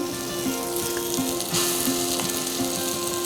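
Dahi bara batter dropped into hot oil sizzles and crackles steadily, a loud close frying hiss with faint bubbling pops throughout, no voices.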